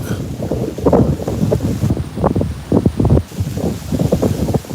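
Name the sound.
wind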